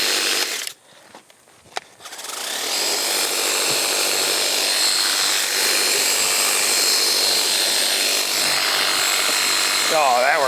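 A Mrliance 40-volt cordless pressure washer spraying around a car's disc brake and CV joint area: after a couple of brief sputters, a loud, continuous hissing spray runs steadily to the end.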